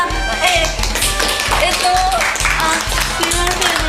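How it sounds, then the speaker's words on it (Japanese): A small group claps after a Japanese soroban abacus demonstration, brisk close-up hand claps mixed with voices talking and reacting over the top. "拍手。"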